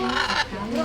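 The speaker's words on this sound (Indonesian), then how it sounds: "Makau, burung makau." A macaw at a safari and marine park in Bali gives a loud, harsh, drawn-out squawk close by, with strained, nasal tones.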